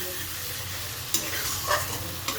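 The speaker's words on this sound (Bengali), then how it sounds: "ধনে গুঁড়োটা আর জিরে গুঁড়োটা এরপরে ভালো করে নাড়তে থাকবো।" Cumin and coriander powder is stirred in a frying pan for sago khichuri: a few distinct spoon scrapes rise over a steady low sizzle, close and moderately loud, with no talk.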